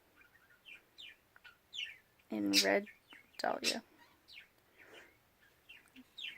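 A pet bird indoors chirps loudly and repeatedly in quick bright bursts, with a couple of louder squawks in the middle, while someone talks over it during a beauty box unboxing.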